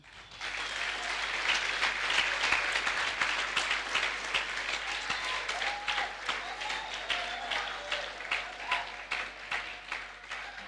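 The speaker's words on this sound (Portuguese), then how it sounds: "gostaríamos que a igreja os parabenizasse com salva de palmas" A church congregation at a Sunday service gives a couple a long, dense round of applause that swells early and then gradually thins, with a few voices murmuring underneath.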